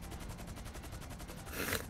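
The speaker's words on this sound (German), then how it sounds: "Ey, auf uns wird geschossen." Steady machine-gun fire in GTA V Online, a fast, even stream of shots aimed at players, with a louder, brighter burst near the end and no talking.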